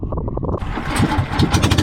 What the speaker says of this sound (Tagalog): Magpapaandar na siya ng makina.